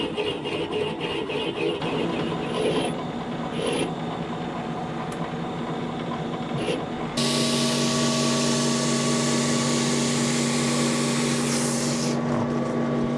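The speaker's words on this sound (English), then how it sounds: "I'm just going to chuck this in the lathe" A lathe turns a gun part from a Gunstar renovation to flatten its front, a steady mechanical hum that steps up to a louder, stronger whine partway through and holds at that level.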